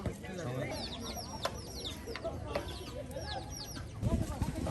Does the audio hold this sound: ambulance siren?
no